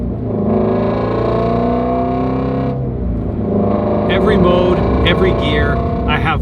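Ford GT350R fitted with an AWE Switch Path exhaust, its engine loudly droning and revving up, dipping briefly, then climbing again with crackling, rising pitch sweeps as it accelerates through gears.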